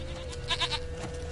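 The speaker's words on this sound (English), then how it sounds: "Hoofed and horned. Should have known it would be stubborn." A goat in The Witcher 3 video game gives one short, wavering bleat near the middle, fairly close, over a constant low game backdrop of wind and hum.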